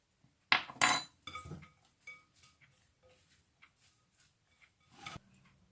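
A utensil clinks against a bowl while nem filling is mixed with fish sauce, a few sharp metallic knocks and scrapes up front, then sparse faint taps, with one more clink near the end in a quiet kitchen.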